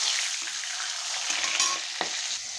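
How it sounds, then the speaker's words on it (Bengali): Pieces of Ganges aar fish crackle and sizzle in oil after being flipped in the pan, a continuous close hiss with a few sharper spatters and a brief scrape near the end, no talking. "মাছ আমার একটু ভাজা হয়ে গেছে,"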